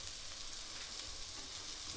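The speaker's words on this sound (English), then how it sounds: "You hear that sizzle?" Jimmy Dean pork sausage frying in a hot skillet gives a steady, close, even sizzle that crackles continuously for the whole stretch, with no talking.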